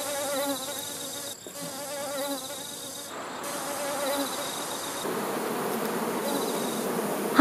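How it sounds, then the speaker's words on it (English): Guard honeybees at the hive fan their wings to cool it, making a dense, steady buzz that holds close and unbroken throughout with no voices. "Honeybees that guard the beehive are cooling the hive with their flapping wings."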